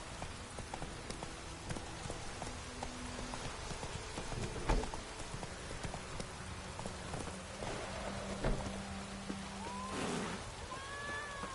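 A horse's hooves clip-clop steadily in the rain in the video game The Witcher: Wild Hunt, with a patter of raindrops throughout and a couple of louder knocks mixed in.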